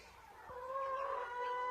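A broody hen with a full beard and fresh moult calls in a village yard: one short, quiet, drawn-out cluck heard close by.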